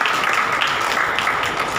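Congregation clapping hands to praise the Lord at a Hindi Bible study gathering, a dense steady patter of many hands, fairly loud and continuous, with no voices.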